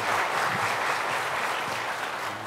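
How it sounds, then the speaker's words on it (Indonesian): Sustained audience applause at an Indonesian health ministry talk show in Purwakarta, a dense wash of clapping that holds steady throughout and fades slightly at the end. "Kita beri tepuk tangan yang meriah Ibu Putisari."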